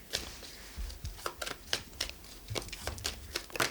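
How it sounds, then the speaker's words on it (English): A deck of playing cards being shuffled, a string of quick crisp riffles and flutters in irregular bursts, close up, with no talking. "So I'm going to shuffle these cards."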